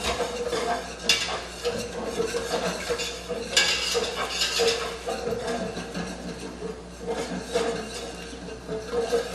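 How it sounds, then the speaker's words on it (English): Whisking flour and onion into a pot of soup: steady scraping and stirring with repeated metal clinks against the pot, close and continuous, with no talking. "it says to whisk until thick and smooth"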